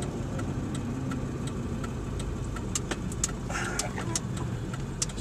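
A 2002 Ford 7.3L Powerstroke truck with a CNG conversion drives along, its steady engine and road drone continuous and fairly loud, with faint clicks and jangling from inside the cab.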